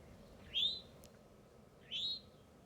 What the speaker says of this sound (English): after we identified it, it was an eastern towhee